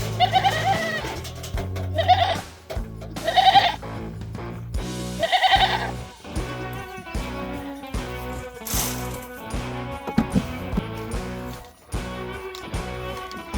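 A baby goat bleats repeatedly at close range, several loud wavering cries in an uneven rhythm, mixed with occasional clinks and rustles and no clear talk.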